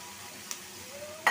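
Curry cooks on a stove with a faint steady sizzle, broken by a light tap and then a sharper clatter near the end.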